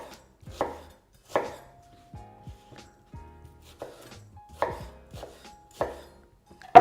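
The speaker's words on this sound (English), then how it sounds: "Usually in this case the Thais cut the onion" A knife chops an onion into big chunks on a cutting board, giving sharp, close thuds at an irregular pace, roughly seven or eight distinct cuts with quiet gaps between them.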